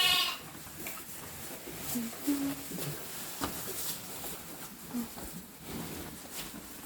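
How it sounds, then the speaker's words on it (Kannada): Sheep and goats eat fodder in a village, giving several scattered bleats at a moderate distance, with rustling and occasional voices nearby. "ಇಲ್ಲಿ ಕುರಿ ಇದಾವೆ ಕುರಿ ಮತ್ತೆ ಮೇಕೆ ಅವು ಮೇವು ತಿಂತಿದ್ದಾವೆ"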